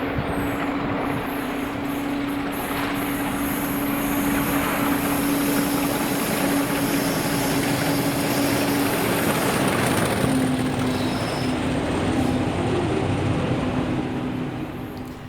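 A heavy diesel engine drones steadily with a constant low tone, a Class 37 diesel locomotive hauling a freight train rumbling past at Polmont, Scotland, at a sustained, loud level without letup.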